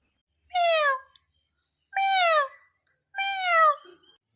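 A cartoon cat meows three times in clear, evenly spaced calls, each about half a second long, with nothing else heard in between.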